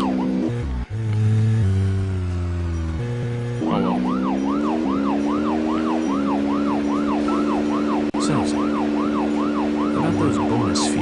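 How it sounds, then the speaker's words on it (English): Wailing electronic sirens in the video game Deadly Premonition: The Director's Cut, steady tones shifting into a rapid rising-and-falling yelp, loud and continuous with a little music underneath. "I won't be able to hear it at all over the sirens."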